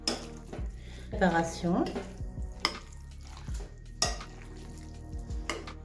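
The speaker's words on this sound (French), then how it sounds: "On mélange bien." Salmon tartare being stirred in a bowl with crème fraîche and ketchup: soft, irregular scraping and tapping of a utensil, close and fairly quiet, with a voice speaking briefly.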